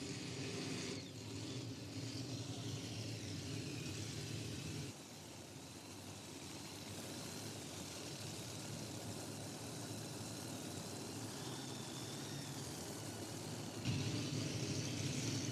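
Modified pulling tractor at an NTPA truck and tractor pull, a distant engine droning steadily for the whole stretch with a few shifts in level, quiet and without talk.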